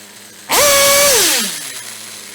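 A nitro model engine is blipped to a sharp, loud high-pitched whine that holds about a second, then falls away and settles into a quieter steady idle.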